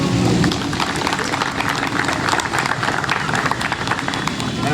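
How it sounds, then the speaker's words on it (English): A large crowd at a 9/11 memorial anniversary ceremony in Levittown claps and cheers steadily, dense and continuous, with voices mixed into the applause throughout. "Let's get a round of applause."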